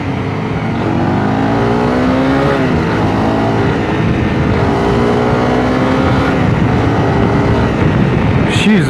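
A Honda CRF 250 Rally motorcycle on a road test ride, its engine droning loud and steady with gently rising and falling revs as it cruises, plus a buffeting wind-like roar throughout.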